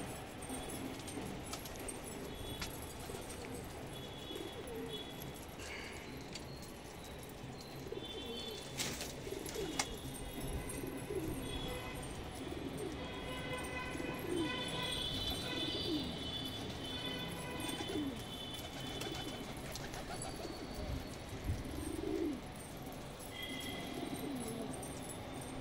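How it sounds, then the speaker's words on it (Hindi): Pigeons coo softly and repeatedly in a low, rolling rhythm, with faint chirps and light rustling or clinking against a steady background hum. "कबूतर बुखला जाता है"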